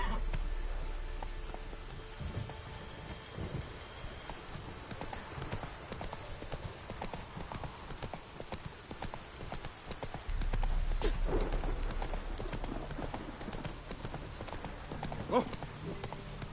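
Horse hooves beat in The Witcher 3 video game, a rapid rhythmic clip-clop of a galloping horse that runs throughout, fairly close, with brief background sounds and a snort-like burst midway.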